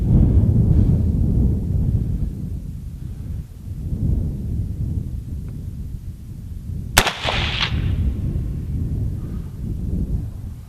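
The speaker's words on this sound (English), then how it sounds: "Let's take her out and shoot it and see what you think." A single loud, sharp report from a .38-55 caliber rifle fired outdoors, followed by a brief rumbling echo, with steady wind noise buffeting the microphone throughout.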